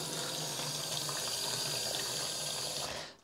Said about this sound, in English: the sink here, with a bit of cold water, washing up liquid.